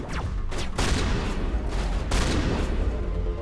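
Heavy, booming shotgun blasts and rumbling gunfire from a firefight in the video game Mass Effect: Legendary Edition, loud and dense, with several sharp reports standing out over a continuous low roar.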